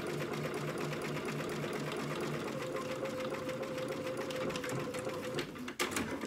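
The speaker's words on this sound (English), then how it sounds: "That we're gonna top stitch this on." A sewing machine topstitches along a skirt edge with a steady, rapid mechanical whir and needle chatter that runs continuously, ending with a brief clunk as it stops.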